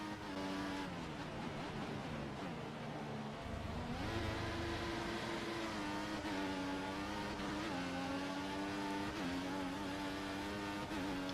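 Mercedes race car pulling out of the pits, its engine a steady loud harmonic drone that steps up in pitch through several gear changes, heard from onboard with no voices.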